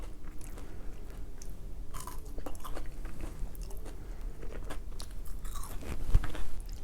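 Close, crisp crunching and biting on crinkle-cut fries with sauce, in irregular bursts of chewing, loud and intimate with no talking.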